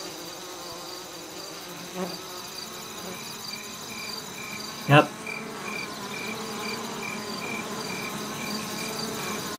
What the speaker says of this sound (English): now let's see if we can perceive the crickets changing.